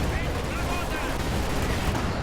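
A Katyusha rocket barrage combined with shock troop grenades in Company of Heroes 2, a dense, roaring wall of explosions and rumbling blasts, loud and sustained throughout the short stretch.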